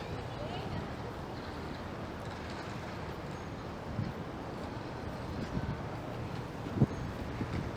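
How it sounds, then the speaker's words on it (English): Wind gusting and buffeting the microphone on a Friday evening downtown Toronto street near Wellesley Street, a steady broadband rush with a few brief louder bumps. "There's some wind kicking up."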